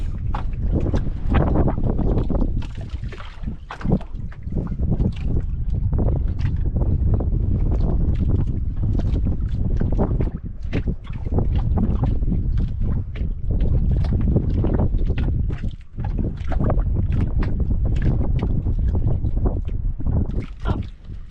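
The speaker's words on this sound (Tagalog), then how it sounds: "Walang alon, hangin lang." Strong, steady wind buffeting the microphone, a continuous loud roar with gusty fluctuations throughout.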